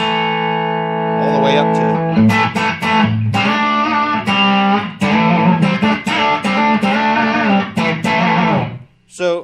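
Electric guitar played through an overdrive pedal with the gain off, clean, undistorted chords and single notes ringing out, while someone talks over the playing.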